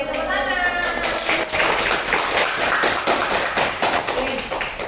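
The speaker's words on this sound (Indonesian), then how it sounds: "tepuk tangan" A primary school class claps hands together after a correct maths answer in a sixth-grade lesson, a dense, steady patter of many hands lasting several seconds, loud and close in a classroom.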